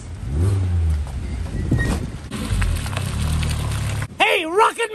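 A small Mini car engine running close while reversing, a steady low drone with rising revs, and people speaking over it.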